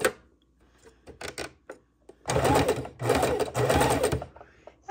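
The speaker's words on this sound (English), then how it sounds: "We're going to start sewing near the bottom of the" A sewing machine stitches a reversible coffee cozy in short bursts, a few quick taps and then three longer runs of rapid, steady mechanical chatter separated by brief pauses, close and fairly quiet.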